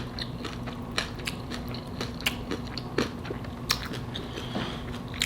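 Crunchy bites and steady chewing of shrimp tacos topped with sour cream, close to the mouth, with repeated sharp crunches over a soft, continuous munching background and no talking.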